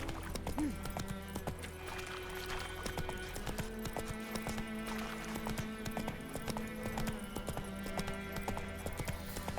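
Roach the horse from The Witcher 3 clip-clopping on hooves in a steady, close rhythm, with continuous game ambience and music droning underneath and a brief whinny-like sound near the start.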